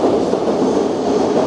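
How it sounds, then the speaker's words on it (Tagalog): Continuous loud rumble and rush of a Japanese Shinkansen bullet train at a station, a dense steady noise with no break. "Dito na yung train before us."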